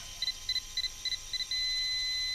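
A NEDO laser level's receiver on a telescopic tripod column sends a rhythmic series of short, high electronic beeps, then settles into one continuous tone, clear and close with no talk.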